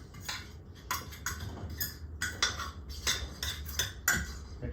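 A fork mixes cornstarch, flour, black pepper and salt in a bowl as fried pickle coating, giving a steady series of light scraping clinks and taps against the dish, fairly close and fairly quiet.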